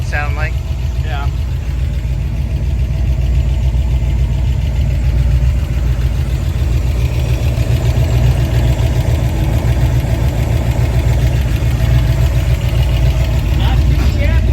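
A 1962 Ford Falcon that needs a valve adjustment idles steadily and loudly up close after start-up, with a constant rough, lumpy throb, while voices talk briefly at the start and end.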